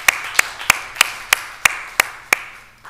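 Applause at a public commission meeting on police practices, heard as a steady run of sharp, evenly spaced claps about every third of a second, fairly close and alone without talk.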